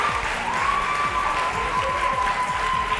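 Studio audience clapping as two young guests come on stage at a televised game show, a steady wash of applause with a sustained tone and rhythmic music running underneath.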